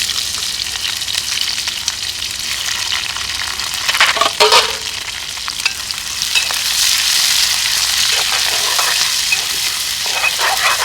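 Onions sizzle and fry in a pan for a village-style Sunday biryani, a steady loud crackle with occasional stirring scrapes and spattering bursts, no talk.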